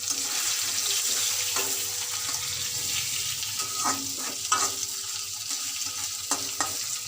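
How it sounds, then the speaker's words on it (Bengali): Fish pieces fry in hot oil with a steady, bright sizzle, broken by several sharp clinks and scrapes as a utensil turns the fish in the pan. "এরকম লাল লাল করে ভেজে নেব মাছগুলো"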